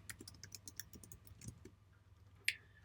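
Quiet clicks of typing on a computer keyboard, a loose burst of light keystrokes followed by a pause and one sharper tap near the end, with no talk.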